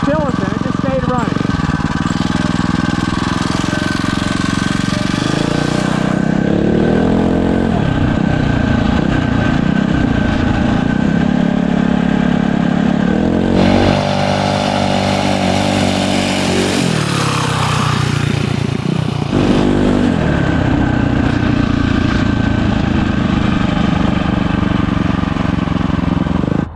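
A small Tillotson engine on a dirt bike drones steadily throughout, its pitch rising and falling with throttle changes; voices speak over it at times.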